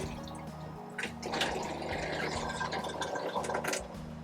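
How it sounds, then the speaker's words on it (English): A small water pump in a van conversion bathroom runs steadily with a low harmonic hum, pushing water from a small source through a hose onto a shower tray, with soft splashing and dripping over it, close and alone. "Let's turn on the pump and see."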